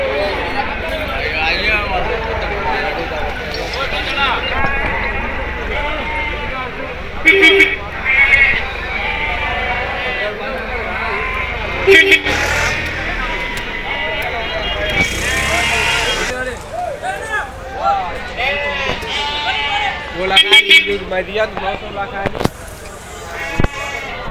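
Rams bleat at the Nallapadu sheep market with repeated, wavering calls. Steady crowd chatter and market bustle fill the background, with several louder knocks and bangs scattered through.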